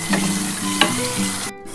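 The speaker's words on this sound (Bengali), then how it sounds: "এটা ভালো করে এখানে কষিয়ে নিতে হবে।" Fried pointed gourd being sautéed in a pan, a close continuous sizzle broken by a few scraping stirs and a brief sharp clatter, with no one talking.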